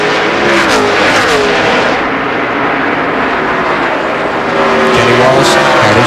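A pack of NASCAR stock cars at the 2002 Southern 500 roar past at full speed, engines howling and shifting pitch as they sweep by, with a race commentator talking over the loud engine noise.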